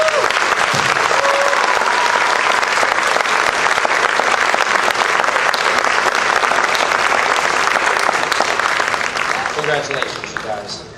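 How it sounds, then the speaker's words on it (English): Loud, sustained applause from a concert audience for a seventh grade school band, a dense wash of clapping that holds steady for about ten seconds before starting to thin out at the end. "and a big round of applause for our 7th grade band."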